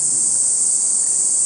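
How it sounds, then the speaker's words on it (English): Cicadas sing in a garden, a loud, continuous, high-pitched buzzing drone that holds steady throughout with no talking. "listen to the cicada"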